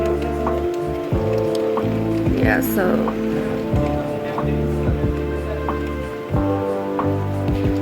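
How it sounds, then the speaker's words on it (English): Heavy rain pours outside a balcony during cyclone-like weather, a steady dense hiss of falling water with scattered drips and splashes throughout, while a person speaks briefly over it. "It's pouring outside. It's pouring, it's raining."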